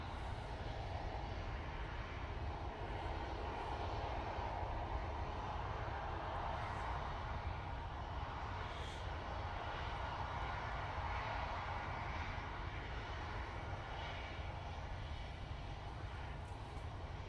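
An aircraft at windy Manchester Airport produces a steady distant engine roar under broad wind rumble, faint and unchanging for the whole stretch.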